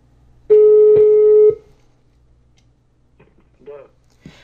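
A phone call placed to a Bulgarian number begins with a loud, steady one-second tone, then quieter faint clicks and short tonal blips follow as the line connects.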